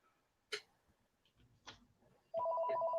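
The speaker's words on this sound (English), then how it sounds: "As my phone rings." A phone begins ringing with a steady electronic ringtone that cuts in after a couple of soft knocks and handling sounds, moderately loud and continuing to the end.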